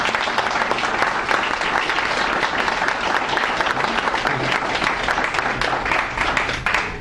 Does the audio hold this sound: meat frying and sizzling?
no